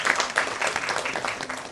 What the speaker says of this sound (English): Can we have a clap for both of them together?